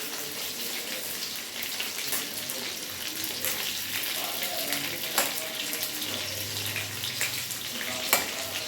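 Fish pieces fry in hot oil for chili fish with a continuous close sizzle and crackle, broken by occasional sharp pops and scraping touches, with no speech.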